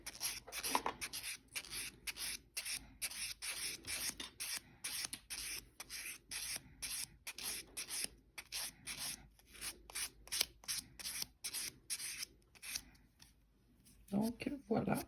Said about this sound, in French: Je m'en vais polir mon ongle.